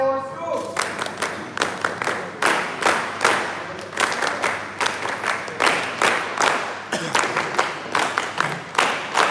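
A seated audience at an NSS West Bengal official event claps steadily to welcome the chief guest, a dense run of many overlapping hand claps that fills the whole stretch at moderate loudness, with no talk.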